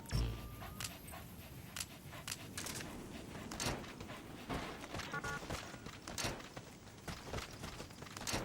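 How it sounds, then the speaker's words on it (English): A dog companion in the Metal Gear Solid V video game whimpers and pants softly amid light in-game footsteps and scattered clicks, a steady low-level bed of game ambience with no talking. "Good dog."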